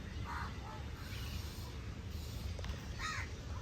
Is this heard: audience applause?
no